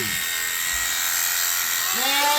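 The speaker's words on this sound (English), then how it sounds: "right now Arnie's shearing off the back end of this ewe who had her lamb with his new clippers" New electric clippers shearing the back end of a ewe hum in a steady, close, high buzz, with a short bleat rising near the end.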